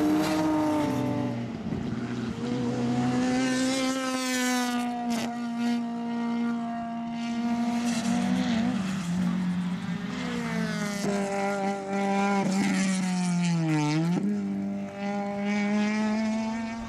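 Race cars, among them a BMW M3, scream past at Serres Circuit, with one engine note holding high and steady, rising and falling through gear changes and a sharp downshift near the end, loud and continuous with no voices.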